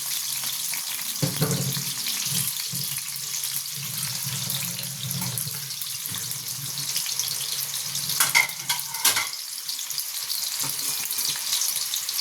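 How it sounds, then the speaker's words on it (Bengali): Potatoes fry in a pan until reddish-brown, a continuous close sizzle of hot oil with a few clattering stirring knocks near the start and again later, no talking. "আলুগুলো একটু লাল লাল করে ভেজে নেব।"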